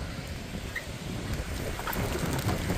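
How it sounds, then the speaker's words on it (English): A bad storm with a possible tornado, steady close rain and low thunderous rumble filling the whole stretch, with no voices. "Oh, the wind's coming. The rain's coming. Oh, the hail's coming."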